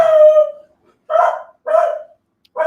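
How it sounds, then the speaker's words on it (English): Neighborhood dogs bark and howl in four separate calls, the first a drawn-out howl and the rest shorter barks, fairly close and clear with no talking. "it's neighborhood dogs, Mia and Nova"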